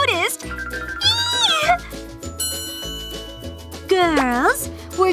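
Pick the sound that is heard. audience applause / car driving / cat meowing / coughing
cat meowing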